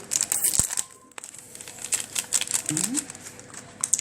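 A packet of yeast crinkles and tears open while bread dough is prepared from semolina and white flour, giving close, sharp plastic rustles and crackles in irregular bursts with a few knocks.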